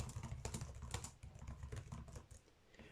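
Rapid, irregular keystrokes on a computer keyboard as a command is typed into the Windows 10 command prompt, close and steady with no talking over it.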